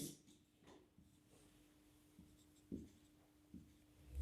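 Quiet, close scratching of a pen writing on paper during a maths lesson, with short strokes and a few sharper taps over a faint steady background hum.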